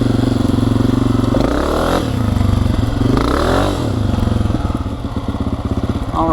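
A Honda CRF250F dirt bike engine idles with a throaty putter, blipped up into two short revs that rise and fall before it settles back to a lumpy idle. It is close, loud and alone.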